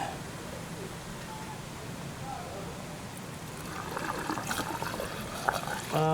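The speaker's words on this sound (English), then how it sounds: "So open the cap and start filling it in." Washer fluid trickles steadily from a container into the reservoir of a Volvo XC, a soft continuous liquid gurgle rising slightly toward the end, with someone talking over it.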